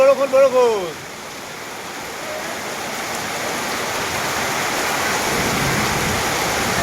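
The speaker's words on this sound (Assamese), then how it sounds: "ইফালে আকাশত গৰ্জনী মেঘৰ গৰ্জনী" Heavy rain pouring down in rural Assam, a dense, loud, steady roar of water that continues unbroken after a brief voice at the very start.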